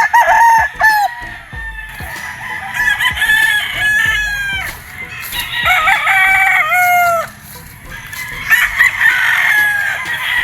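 Several red kelso gamefowl roosters on a gamefarm crow loudly and close, their drawn-out calls overlapping one after another, with clucking and other farmyard birds in the background.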